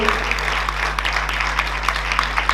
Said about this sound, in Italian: Un applauso perché è veramente una delle perle del nostro territorio